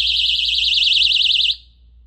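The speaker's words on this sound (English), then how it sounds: "that's a very loud personal alarm that will grab people's attention if you're being attacked" A loud personal alarm built into a hidden self-defense weapon emits a piercing, rapidly warbling high siren tone for about a second and a half, then cuts off abruptly.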